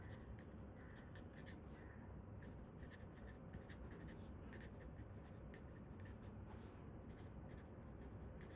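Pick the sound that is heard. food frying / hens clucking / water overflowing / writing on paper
writing on paper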